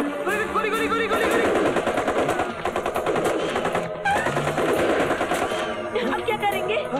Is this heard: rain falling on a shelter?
no